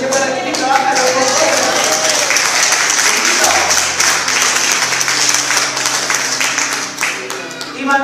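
A church congregation applauds during a sermon, with dense, steady clapping filling the whole stretch and a preacher's voice speaking over it.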